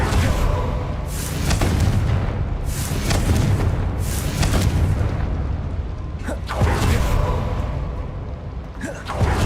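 The Confringo fire spell goes off in Hogwarts Legacy with dense booming blasts and rumbling bursts, loud and continuous with a few sharp cracks near the end.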